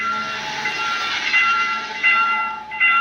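A train passing a railroad crossing in a Roblox video game with a South Korean crossing setting, a steady loud rolling rumble with bright tonal hum and swelling bursts throughout, no voices.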